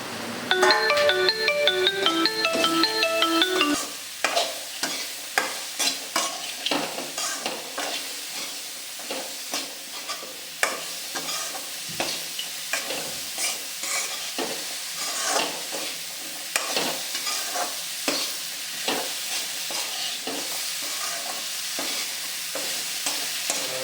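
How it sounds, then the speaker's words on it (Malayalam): Carrots and beans are stir-fried for vegetable fried rice, giving a continuous sizzle with frequent scraping and clinking stir strokes. A melodic ringtone-like jingle plays over the first few seconds. "ക്യാരറ്റും ബീൻസും എല്ലാം ഒന്നിച്ചിട്ട് കൊടുത്ത് അങ്ങനെ നന്നായിട്ട് ഇളക്കി യോജിപ്പിക്കാം"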